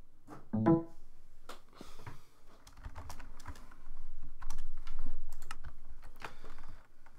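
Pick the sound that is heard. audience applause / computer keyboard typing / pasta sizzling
computer keyboard typing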